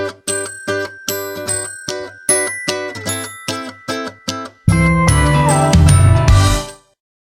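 A bright notification bell sound effect dings in a quick rhythmic series of loud, ringing strikes, then swells into a dense shimmering flourish that fades out.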